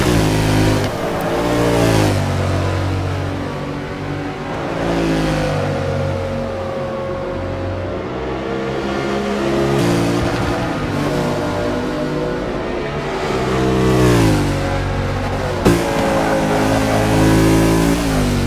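A Mercedes race car engine roars loud and continuous, its pitch climbing and dropping as it revs through gears, with no voices over it.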